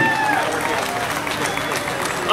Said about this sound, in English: So will you give a big round of applause on the guitar, the Dr. Don Benzine